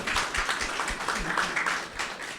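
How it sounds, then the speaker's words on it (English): Applause from an audience for panelists at a film screening and discussion event, a steady wash of many hands clapping throughout, moderately loud and continuous. "Let's give a round of applause for our panelists."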